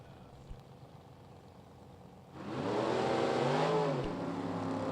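Drag race cars at a Class Racers Revival event launching down the racetrack, quiet at first, then a loud engine roar swells in and holds, heard from a distance with no talk during the run.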